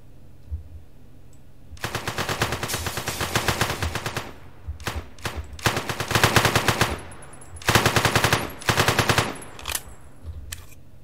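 Automatic gunfire in the heist video game One Armed Robber, loud rapid bursts of shots in several long volleys separated by short pauses, with no talking.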